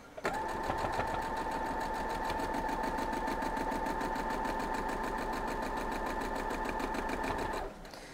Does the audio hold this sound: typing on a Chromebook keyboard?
no